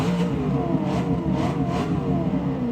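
V8 car engine in Forza Motorsport 6, droning steadily with a few rising revs pulsing through a continuous mid-pitched hum, loud and close, no voices.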